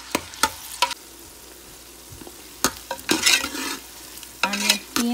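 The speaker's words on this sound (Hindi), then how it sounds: "हम लहसुन और एक जो प्याज हमने चॉप किया था वो हमने डाल दिया।" Garlic and chopped onion frying in a pan for turnip and meat curry, heard as a low background sizzle broken by sharp spoon-against-pan stirring clacks and scrapes in short irregular bursts.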